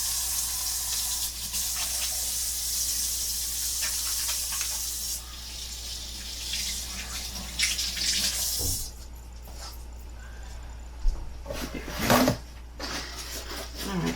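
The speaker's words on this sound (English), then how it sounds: "Let me wash my hands." Kitchen tap running for handwashing, a loud steady hiss of water that cuts off partway through, then softer splashes, rubbing and clinks.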